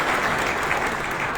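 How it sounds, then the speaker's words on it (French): Steady audience applause for a team at a corporate presentation on digital payments, a dense wash of clapping holding even and fairly loud throughout, with no talk over it. "On peut les applaudir"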